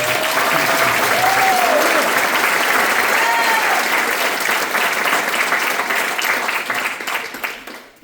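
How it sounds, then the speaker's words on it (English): A large audience at a high school graduation ceremony breaks into loud, sustained applause that holds strong for several seconds before tapering off, with voices faintly mixed in. "So big round of applause."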